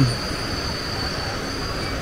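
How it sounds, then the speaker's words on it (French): Freight train loaded with iron ore heading toward Narvik on the Iron Ore Line near Riksgränsen, a steady rolling rumble with a thin high wheel squeal, close and continuous. "Sur les trains qui vont vers Narvik, chargés de minerais de fer."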